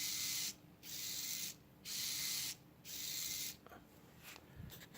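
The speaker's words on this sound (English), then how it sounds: "you hear the servos going around" Small servos in a Raspberry Pi and Arduino apparatus whir in four short, evenly spaced bursts, quiet and close, followed by faint clicks and handling noise.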